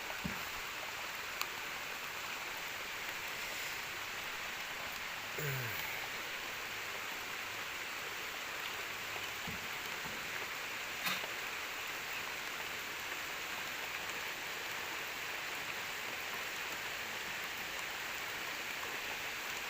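Steady rain patters down continuously while out fishing by boat, a soft even hiss with occasional faint drips, and no voices.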